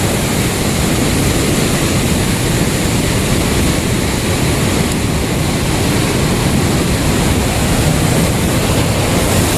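The Ganga at Haridwar rushes hard through open, heavy barrage gates after a cloudburst in Uttarakhand, making a steady, loud, dense roar of turbulent water that never lets up and has no voices over it.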